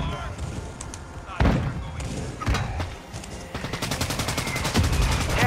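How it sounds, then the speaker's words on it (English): Combat in Call of Duty: Modern Warfare II during a friendly mortar strike, with heavy thuds and booms followed by rapid bursts of gunfire, loud and close, mixed with game noise. "Friendly mortar strike inbound."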